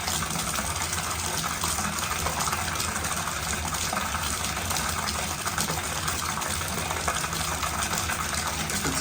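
Water from a first-floor shower runs in a steady, broadband hiss and splash, close and constant throughout with no voices.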